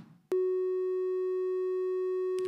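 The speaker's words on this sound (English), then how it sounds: "It's just like a little drone in there." A little synth drone in a beat sits as one steady, pure sustained tone after a soft lead-in, holding flat and unwavering until brief clicks near the end.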